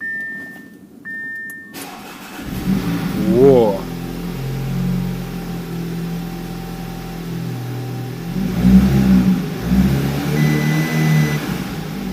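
A few short electronic beeps, then an Audi A5 Sportback engine cranks and catches, revving briefly before settling into a steady idle, with background noise throughout.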